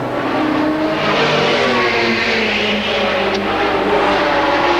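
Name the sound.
Jaguar race car passing at Le Mans 1987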